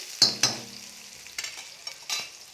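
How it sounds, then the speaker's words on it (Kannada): Crushed ginger and garlic fry in a pan for a liver fry while a spoon stirs, giving a few soft scraping strokes over a faint, steady sizzle. "ಈ ರೀತಿಯಾಗಿ ಫ್ರೈ ಮಾಡ್ಕೊಬೇಕಾಗುತ್ತೆ ಆ ಒಂದು ಹಸಿ ವಾಸನೆ ಹೋಗೋ ತನಕ ಫ್ರೈ ಮಾಡ್ಕೊಳ್ಬೇಕು"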